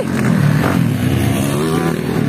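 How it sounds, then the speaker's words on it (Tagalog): A motorcycle engine revs loudly and steadily at close range throughout, with a rough, buzzing tone and light clatter at a rural road race. "ligan lang ang motor ni Ray Ray"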